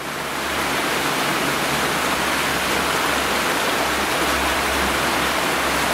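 A river by the lodge at Glanrhyd flows in a steady, dense rush of water that fills the whole stretch at an even, fairly loud level, with no voices over it.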